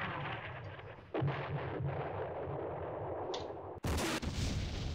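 Artillery fire in a war strategy video game set in the Middle East, heard as a steady rumbling bed with a sharp blast near one second and another loud, abrupt burst near four seconds, with no voices.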